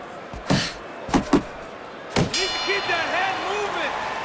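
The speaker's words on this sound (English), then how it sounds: "The unexpected final bell as we will now await to hear the judges' scores." A boxing ring bell rings out at the final round's end in Fight Night Champion, a few sharp clanging strikes spaced apart, followed by a ringing tone that trails off under crowd noise.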